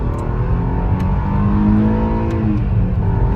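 A Cadillac CTS 3.2-litre V6 engine of 220 hp revs and accelerates on a small road with a rising, throaty roar, close and loud, building steadily.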